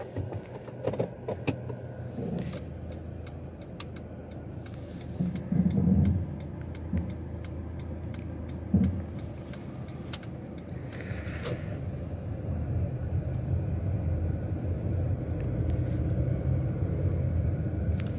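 Steady interior rumble of a 2021 Honda City 1.5 top-variant car driving, growing slightly louder later on, with scattered small clicks and rattles and no talking.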